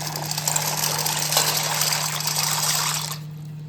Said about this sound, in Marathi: तर आता पाण्याला उकळी फुटलेली, तर मी इकडे ना पाण्यामध्ये पास्ता टाकून घेते.